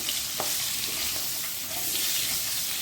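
Spicy chillies with yogurt and salt sizzle steadily in a pan while a spoon stirs them, a dense close frying hiss with a few soft scraping knocks and no voices.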